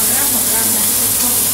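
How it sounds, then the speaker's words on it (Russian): Fish fries in a pan with garlic and rosemary laid around and on top, giving a steady, close, loud sizzle and hiss with no break. "Еще жарим 4 минуты."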